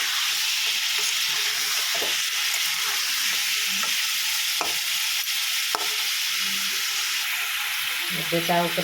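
Chicken pieces fry in oil with a loud continuous sizzle and hiss, broken by occasional clinks and scrapes of a stirring spoon against the pan, with a voice faintly heard near the end.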